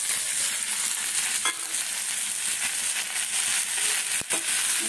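Chili chicken frying in a pan as tomato and chili sauce go in, a loud continuous sizzle with scraping stir strokes and a sharp clack near the end, no talking.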